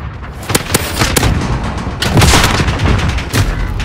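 Gunfire in the video game Modern Warfare, loud rapid bursts of shots and booming impacts in close succession, with no voices over them.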